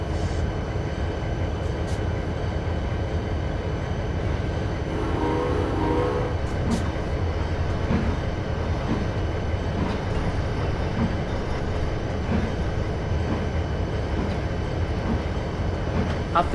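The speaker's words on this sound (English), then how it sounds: "John and Steven led the train back to Steamnation." An animated train runs along rails with a steady, continuous rumble and clatter throughout, a mid-distance mechanical drone with no voices.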